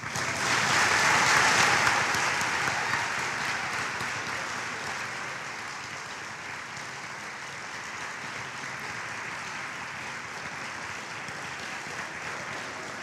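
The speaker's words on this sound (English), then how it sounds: "Thanks so much for that big round of applause for the winners of the Student Safety Starts With Us Award" Sustained audience applause for student award winners at a safety awards show, a dense crowd of clapping that swells loudly at the start and then settles into a steady, slightly softer ovation with no talking.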